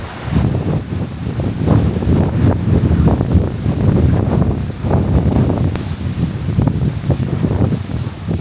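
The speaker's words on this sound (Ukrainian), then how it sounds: "Як ви бачите, вітер капець сьогодні" Strong wind roars and buffets steadily across the whole stretch on a winter coast in Turkey, a dense, gusty rush with rustling and no voices.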